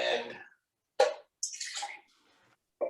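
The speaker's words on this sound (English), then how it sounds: "Rinsing with a little water." A little water swirls and splashes in a wine glass during a rinse, in a few short bursts separated by brief silences, close and fairly quiet.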